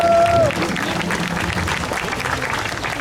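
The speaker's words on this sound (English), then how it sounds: "Round of applause, please." Outdoor audience at a Memorial Day parade ceremony applauds a Girl Scout troop, a broad steady wash of clapping from a crowd lasting a few seconds.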